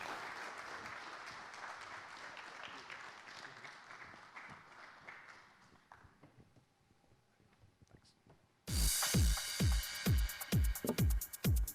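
Audience applause at a cricket event fades over about eight seconds to near silence, then a loud, close burst of rhythmic clapping starts abruptly with sharp, regular hand claps.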